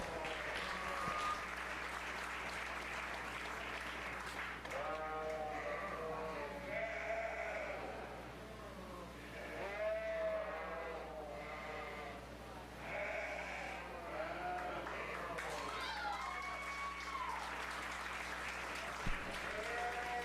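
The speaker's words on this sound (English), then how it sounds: "Let's give everybody a round of applause." Audience applause at a 4-H fair sheep show, a steady wash of clapping running throughout while sheep bleat repeatedly nearby over it.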